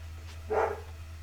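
A dog gives a single short bark indoors, fairly near and moderately loud, against a low steady hum, with no talking.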